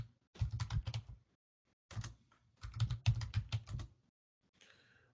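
Bursts of rapid clicking keystrokes on a computer keyboard come in several quick runs separated by short pauses, close and fairly quiet, with a final softer tap as the enter key is pressed.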